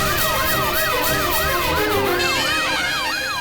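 An ambulance siren wails loudly and steadily, its pitch sweeping up and down in a repeating cycle with no pause and no voices.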